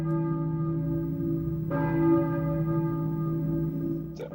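A church bell in the Silent Hill video game rings with a sustained, resonant tone and a second strike partway through, its hum lingering steadily with no speech over it.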